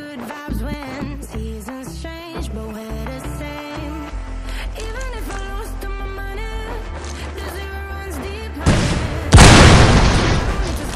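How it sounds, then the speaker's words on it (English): Loud RPG rocket explosions in a shooter video game, a heavy blast erupting near the end over busy game music and effects. "ang ilang RPG pala to?"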